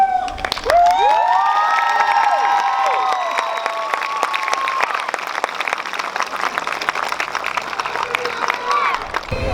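A large crowd at a high school graduation ceremony claps and cheers loudly and steadily, with shouts and whistles rising over the applause early on before it settles into a sustained roar.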